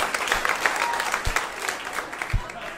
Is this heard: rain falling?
no